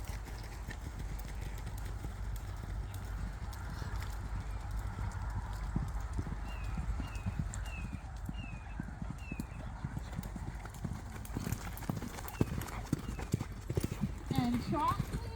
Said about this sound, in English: And let's prepare to canter your horses